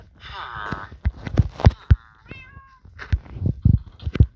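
A cat meows in a hide-and-seek video game: two drawn-out, wavering meows, the second higher and thinner, between soft bumps and clicks from the game, close and fairly clear.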